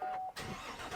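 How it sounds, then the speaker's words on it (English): A Chevy Silverado truck engine cranks and catches, a steady loud mechanical roar taking over after a brief starter burst, close by with no talking. "Now we should be able to start the engine."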